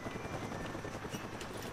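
A helicopter in Call of Duty: Black Ops gives off a steady, dense rotor and engine roar that holds evenly throughout at moderate loudness, with no talk over it.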